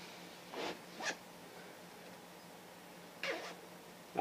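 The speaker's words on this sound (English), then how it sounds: "Both have a Ykk zipper." A few quick pulls of a YKK zipper on an AOR2 combat shirt, short raspy zips in two bursts separated by a quiet pause, close and fairly soft, no talking.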